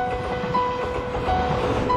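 Steady low rumble of a moving train interior in Taiwan, with a constant hum and faint rhythmic rattling, no voices.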